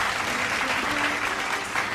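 A church prayer-night crowd applauding steadily, dense clapping throughout at moderate loudness.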